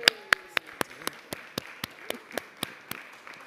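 A small group claps in a council chamber, with sparse, evenly spaced sharp claps in a steady rhythm, fairly close, over a faint background hum.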